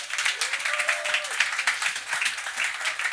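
Comedy club audience at a roast battle applauding steadily, dense continuous clapping and cheering throughout, loud and close.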